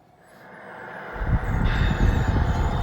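A G scale model locomotive on the Sierra Northern hill job rumbles and rattles as it rolls down a long grade, fading in and then holding a steady, close, grinding roll.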